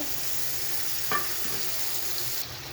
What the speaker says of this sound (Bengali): পেঁয়াজ ভাজা হয়ে গেছে, দিলাম রসুন বাটা, আদা বাটা